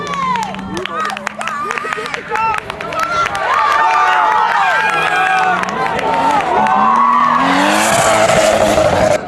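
Race car pushed hard through two linked corners, engine note climbing and falling with gear changes and tyre squeal, a loud commentator talking over it throughout and crowd noise swelling near the end.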